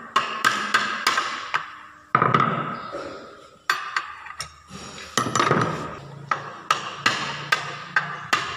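Metal taps and rings come from a flat screwdriver working on the counter gear shaft of a manual transmission. Repeated sharp clinks with ringing decay sound close and loud, with a few scraping passes between them.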